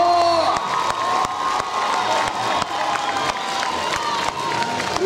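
An audience at an award ceremony cheers and claps, with shouts and whoops rising over steady applause from a lively crowd, sharp claps punctuating the noise throughout.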